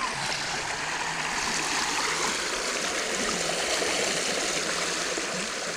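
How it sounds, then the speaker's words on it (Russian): A small stream babbles in a clean Ural river, a steady, continuous rushing and trickling wash of water heard close and alone, with no voices or other sounds. "Ласковое журчание, игра света и тени в струях воды"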